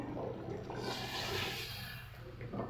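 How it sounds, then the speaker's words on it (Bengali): Water splashes into a pot of ghugni, a Bengali dried-pea curry, as a steady pour, close and continuous for a couple of seconds with no talking. "একটু জল দেবো, এতে"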